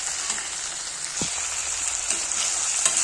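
Garlic and ginger paste fries with sautéed onions in a pan, sizzling steadily and crackling, with a brief scrape of stirring near the start and no talking.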